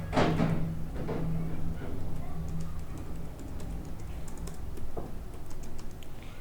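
A computer keyboard is typed on in quick soft clicks and taps, with a light thump near the start. The typing is close and runs steadily under a constant background hum.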